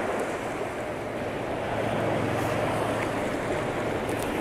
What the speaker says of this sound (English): It's really windy today